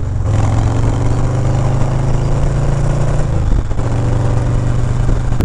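Steady, loud engine drone and wind rush from a motorcycle cruising on the road, heard from the rider's position without a break, with a slight dip in tone partway through.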